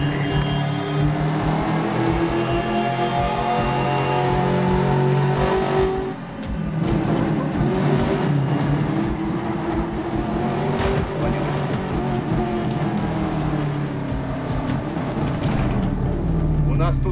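A car drives through the video game Medal of Honor Warfighter, its engine revving and roaring continuously with tire noise and shifting pitch, loud and close, while voices talk over it.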